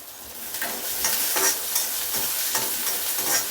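Whole cumin and coriander seeds roast lightly in a pan, giving a bright continuous sizzle with crisp crackles and repeated stirring scrapes, close up and with no talk.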